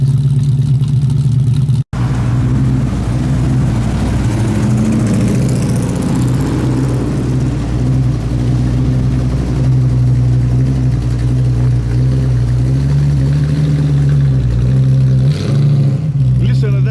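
A 1968 Ford Mustang Coupe engine idles close and loud with a deep, lumpy burble, swelling in a few gentle revs and settling back, while someone talks now and then.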